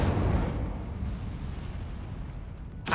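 A fire spell cast in Hogwarts Legacy, heard as a loud whooshing burst that fades into a low rumbling roar, then a short sharp flare at the very end.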